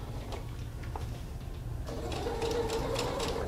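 Sewing machine stitching fabric slowly around curves for a shift dress, soft mechanical ticking and whirring that grows a bit busier halfway through, faint and close.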